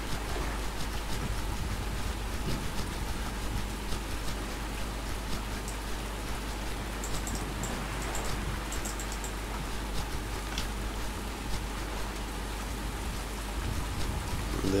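Steady rain in the survival game Survisland, a dense continuous hiss of drops on surfaces with low rumble beneath, evenly loud throughout with no talking.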